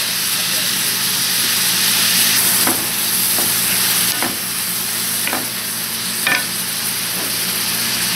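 Chopped onion frying in a pan with black pepper and salt, a constant loud sizzle broken by several sharp spatula strokes as it is stirred close by.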